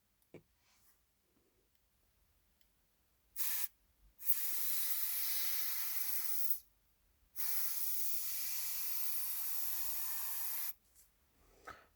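Airbrush spraying P3 ink, a steady airy hiss in a short burst, then two longer sustained sprays of several seconds each, close and clear with no talk.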